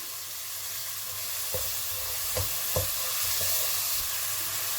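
Frozen garlic sweats in a pan over medium heat, a steady close sizzle with a few soft stirring knocks and no voices.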